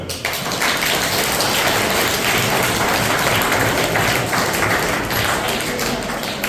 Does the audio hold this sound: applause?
yes